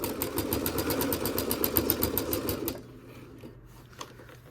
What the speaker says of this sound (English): I'm sewing as close to the edge as I can